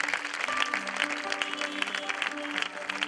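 A congregation at a sermon claps steadily, a dense wash of applause over a sustained musical chord beneath, with faint voices mixed in throughout.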